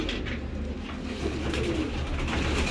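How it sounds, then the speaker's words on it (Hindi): A golden pigeon on a Rawalpindi rooftop coos, low rolling throaty calls repeated close by over a constant background hum, with no talking. "गोल्डन कबूतर है जी"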